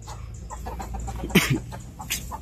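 Native chickens in a breeding cage cluck softly nearby, a few short calls over a low background hum, with one louder squawk in the middle.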